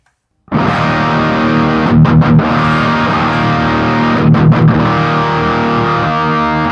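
A loud electric guitar chord played through overdrive pedals rings out sustained, thick and fuzzy, with a couple of brief choppy strums in the middle.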